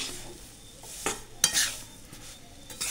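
Besan flour roasting in ghee in a pan for laddu, a soft low sizzle under a few distinct spatula scrapes and clinks against the pan.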